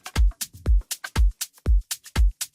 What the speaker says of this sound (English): I've created a drum groove for a starting point,